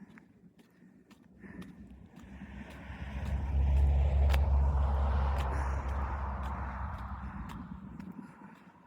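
A vehicle approaches and passes close by with a swelling road rumble that fades away, over faint background street noise.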